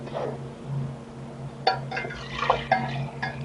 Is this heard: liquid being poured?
yes